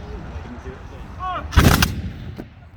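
A single Napoleonic re-enactment musket firing a round lead ball goes off in a sharp, loud blast, with a short rumbling tail that fades over about a second, amid faint outdoor background.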